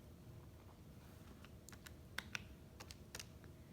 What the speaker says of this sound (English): just type that into the calculator